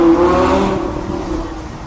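A Lamborghini engine revs loudly and close, a steady throaty drone that gradually eases down over about two seconds, with no talking over it.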